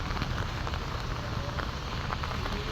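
Heavy rain pours down in Hyderabad as a dense, steady roar across the whole stretch, close and loud with no breaks and no voices.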